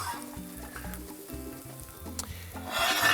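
A keto omelette with feta cooking in a pan, soft sizzling under irregular scraping and stirring sounds, rising to a brighter, louder sizzle at the end.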